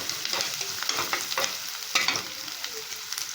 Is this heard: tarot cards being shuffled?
no